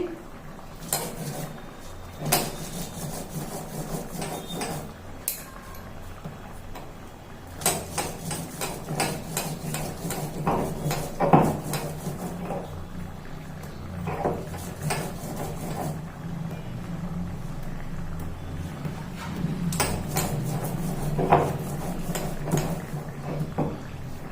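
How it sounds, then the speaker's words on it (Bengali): Ginger and garlic crushed by hand on a flat grinding stone in a home kitchen, a steady run of sharp stone-on-stone knocks and scrapes repeating close by, loud and without talk. "আদা রসুন বেটে দিলাম"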